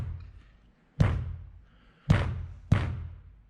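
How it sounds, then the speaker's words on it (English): Three hard knocks on a truck roof during a sound-deadening test with Vibraflex material, each a loud thud with a short ringing tail, spaced unevenly over a low rumbling background. "We're gonna hit on this roof."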